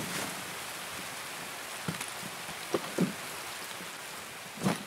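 Steady rain patters softly throughout in a video game, with a few faint thumps and knocks breaking through the hiss.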